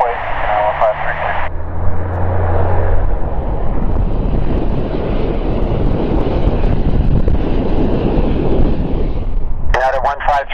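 A United Airlines Boeing 737-924ER jet in Continental retro livery takes off from Calgary, its engine roar building into a loud, steady rumble with wind buffeting, bracketed by brief tower radio chatter.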